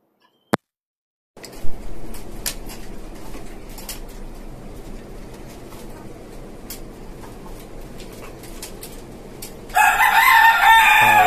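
Desi and tiger chickens with a rooster on a small rooftop chicken farm: steady clucking and bird chatter after a sharp click, with a loud rooster crow bursting in near the end.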